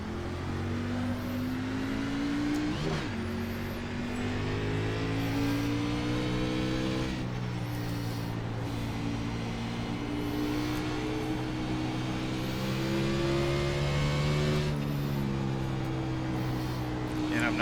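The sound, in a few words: NASCAR race cars accelerating at green flag start, iRacing video game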